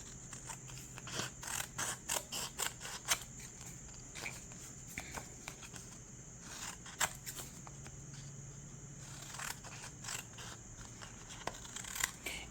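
Scissors snip through paper for making mini booklets, a series of quick close cuts at the start and then sparser snips over a steady faint hiss, with no talk.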